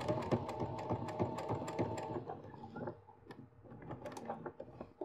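Sewing machine stitching a zipper: a quiet, rapid mechanical chatter of the needle running for about two seconds, then slower, intermittent clicks and taps as the work is adjusted.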